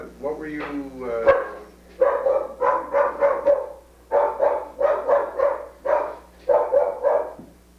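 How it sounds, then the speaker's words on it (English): A dog barks in rapid repeated bursts, several close yaps in rhythmic clusters, loud and clear in an indoor room with a low background hum. "The dog wants to talk to somebody."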